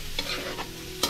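Fried rice with chicken, prawn and egg frying in a home kitchen pan, a soft steady sizzle broken by a few sharp scrapes and stirs of a utensil, with no voices.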